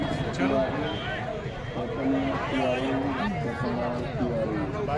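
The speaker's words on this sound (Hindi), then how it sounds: "भीड़ देख रहे हो गाइस, भीड़।" Pilgrim crowd at the Mahakumbh in Prayagraj, a steady dense babble of many voices with overlapping shouts, continuous and fairly loud throughout.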